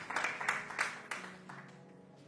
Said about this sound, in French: wenn sie nach vorne kommt, klatschen wir ganz laut für den Herrn